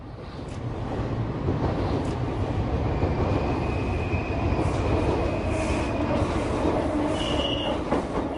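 A train passes on the Santos-Jundiaí railway line in Pirituba, São Paulo, with a loud, sustained rumble of wagons and rolling wheels, a high metallic squeal drifting above it, and no voices.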